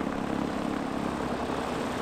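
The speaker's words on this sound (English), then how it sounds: "I'm sorry about the noise, but we are at an airport" Steady, loud aircraft engine drone at an airport, filling the whole stretch with a continuous low rumble and no talk over it.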